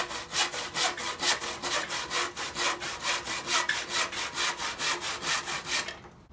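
Plywood being cut with a hand saw, steady back-and-forth strokes in an even rhythm of roughly three per second, close and clear, stopping just before the end.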